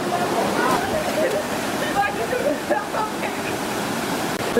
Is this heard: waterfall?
yes